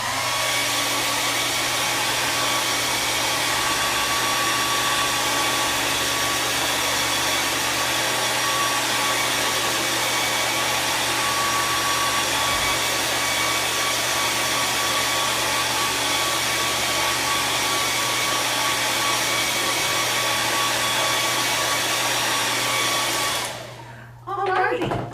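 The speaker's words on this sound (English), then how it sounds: "so I'm going to blow dry mine." Hair dryer blowing on a floral painting of coneflowers, a loud steady close whoosh and motor hum running continuously before switching off near the end.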